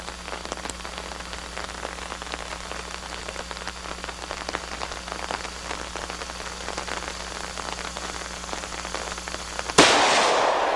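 Rain falls steadily at an outdoor shooting range, a dense, even patter of drops on surfaces that continues throughout, with a sudden louder burst of noise near the end.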